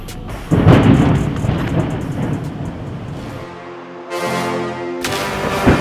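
Loud thunder from a lightning storm rolls and rumbles close by, swelling after a sharp onset, with a deeper low growl midway and another burst near the end.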